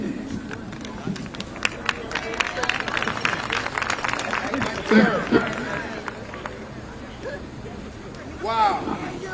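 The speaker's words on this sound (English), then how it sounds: "What a great crowd." Large outdoor crowd cheering and clapping at the SC State Bulldogs HBCU championship parade, a steady broad roar with scattered whoops and shouts, swelling near the middle and again at the end, with voices mixed in.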